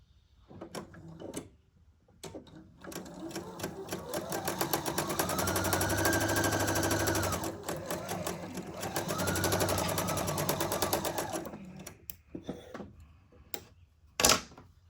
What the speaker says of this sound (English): And we're going to stitch